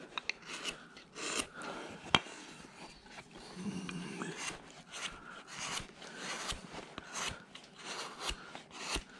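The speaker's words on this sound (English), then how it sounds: "when you start gouging away like this." Hand gouges rasp and scrape against wood while a carving is blocked out by hand, giving irregular, fairly quiet scratchy strokes with a few sharp knocks and no talking.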